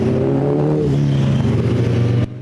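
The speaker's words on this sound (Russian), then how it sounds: "А пока колонна мотоциклистов несется по городским улицам." A column of motorcycles roars loudly together through city streets with a steady revving drone, cutting off abruptly near the end.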